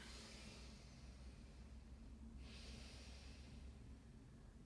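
Slow, steady breathing during a yoga session, a long drawn exhale fading out and a fresh inhale swelling about halfway through, soft and close over a low background hum.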